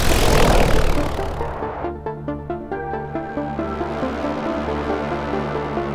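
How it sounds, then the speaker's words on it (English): A medical AED drone flies in, starting with a loud rushing whoosh, then settling into a steady rhythmic throbbing propeller hum with a sustained buzzing drone. "a medical AED drone has been dispatched"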